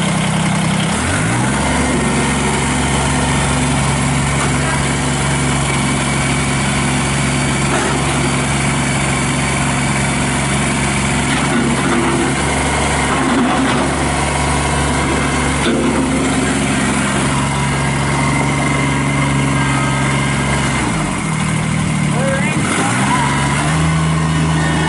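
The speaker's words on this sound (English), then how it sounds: "So we're gonna go ahead, fire this tractor up," A 2015 Kubota BX25D compact tractor engine starts and runs, a loud, steady diesel drone close by with a few revving dips and swells, talk faintly underneath.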